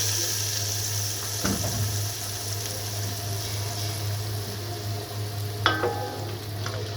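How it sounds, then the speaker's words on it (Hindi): Hot oil tadka sizzles for kadhi pakora, a steady crackling fry throughout with a brief clatter near the start and a sharper metallic clink toward the end. "ये हमने तड़का लगा दिया।"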